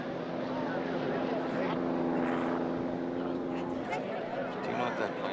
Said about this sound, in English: That Cessna you see overhead